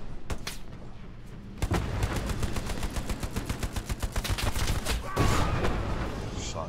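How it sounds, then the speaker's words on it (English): Dense rapid gunfire from the World War II shooter Hell Let Loose on the Omaha map: sustained machine-gun bursts and rifle shots crackle loudly and continuously, with a heavier boom near the end. "Shots."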